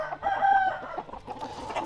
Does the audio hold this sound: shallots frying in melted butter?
no